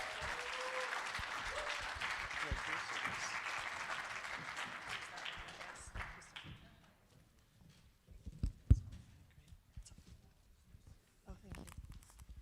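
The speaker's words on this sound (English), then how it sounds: "please give a big round of applause for Melanie Rubin of ParallelTimes.info" Applause from a conference audience welcoming a speaker to the stage: steady clapping for about six seconds that fades out. Quieter shuffling, footsteps and light bumps follow.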